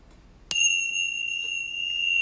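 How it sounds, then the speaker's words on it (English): A single bell is struck once and rings out with a clear, bright tone that sustains steadily for a couple of seconds, alone in a quiet room. "So I'm going to ring the bells."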